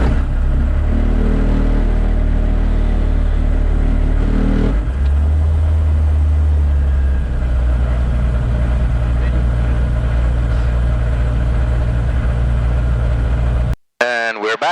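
An AG-915 Javelin gyroplane engine fires up and runs, a loud rough drone that settles to a steady lower idle before cutting off abruptly near the end.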